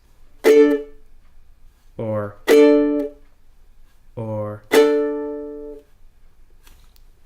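Plucked ukulele chords ring briefly and are cut short by muting, alternating with soft strums, clear and close with no voices.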